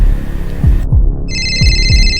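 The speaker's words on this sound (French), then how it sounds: "Le téléphone ne s'arrêtait pas de sonner. Et il sonnait de plus en plus fort." A hotel room telephone rings with a steady electronic double tone that starts partway through, set over a low throbbing heartbeat-like pulse.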